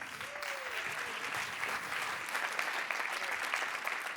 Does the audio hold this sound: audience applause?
yes